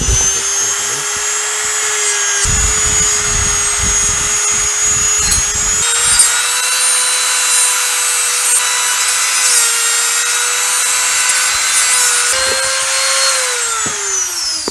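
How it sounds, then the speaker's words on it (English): A Dremel rotary tool whines loudly and steadily as it buffs Losi 5ive T parts, its pitch dipping and shifting under load, with grinding contact noise in bursts. "now I'm going to hit it with the Dremel and just buff it out."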